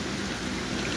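Heavy rain pours down outside in a steady, dense wash of noise that holds without pause for the whole second.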